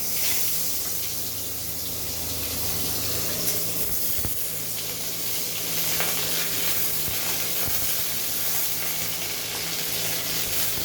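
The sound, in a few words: dried red chillies and crushed garlic frying in oil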